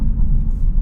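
Kia Stinger GT2 engine rumbling loud and close through a downshift, a steady low growl with slight surges over under a second.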